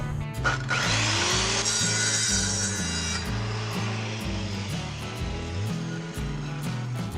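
A hand saw cuts through a 4.5 inch PVC pipe in steady, rapid back-and-forth strokes, close and alone, with a brief scrape as the cut begins.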